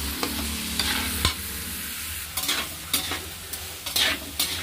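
Diced potatoes with spices stir-fried in a pan, a steady sizzle beneath repeated close scrapes and clacks of the stirring utensil against the pan, with no talk.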